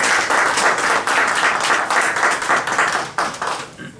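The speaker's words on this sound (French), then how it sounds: "Applaudissons" Crowd applause at a political assembly in Paris, sustained and loud with many hands clapping in a dense, even wash that thins slightly toward the end.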